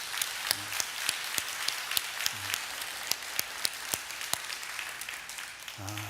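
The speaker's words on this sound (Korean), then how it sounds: "우리 하나님께 우리 영광의 박수 올려드립시다." A church congregation at a Korean Sunday worship service in Seattle claps in praise, a sustained wash of applause with a few louder, nearer claps standing out, no talking over it.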